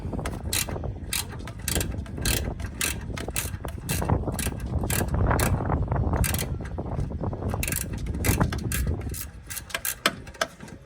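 A ratchet working the headlight ground bolt under the cab mount of a 2006 GMC Sierra, giving rapid close clicking bursts in uneven runs over a dull mechanical rumble.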